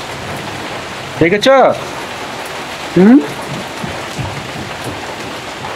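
Rain falls steadily on a rainy day where ducks have been out in the downpour, a continuous close hiss of rainfall with short bursts of speech over it.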